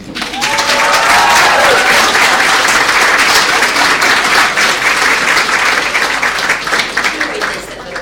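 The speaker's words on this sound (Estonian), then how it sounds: "Aplaus!" An audience at a graduation ceremony breaks into loud, continuous applause, a dense wash of clapping hands that holds steady for several seconds before tapering slightly at the end.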